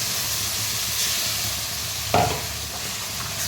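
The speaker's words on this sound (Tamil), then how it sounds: "கருவேப்பிலை நல்லா அதில் பொரிஞ்ச உடனே தக்காளி." Curry leaves fry in hot oil for an egg curry, a steady sizzle and hiss, then chopped tomato drops in with a sudden louder splash of sizzling that gradually settles, no talking.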